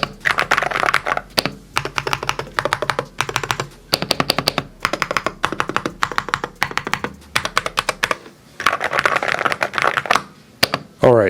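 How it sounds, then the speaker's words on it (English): Rapid, loud clacking comes from typing on a Monsgeek mechanical keyboard, in dense, close bursts of keystrokes separated by brief gaps. "I just like the way it sounds when I'm typing on it."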